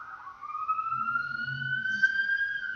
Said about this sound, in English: Sirens are going everywhere from where I live.